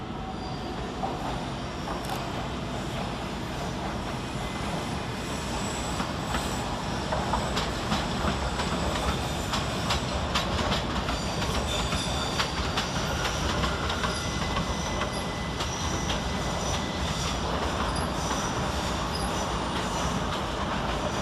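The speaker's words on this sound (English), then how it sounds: "Next up arriving to terminate with a Great Western Railway service off Newbury is" A Great Western Railway electric train pulls into London Paddington to terminate, its steady, loud rumble and rail noise continuing for the whole stretch with faint squeals and clicks.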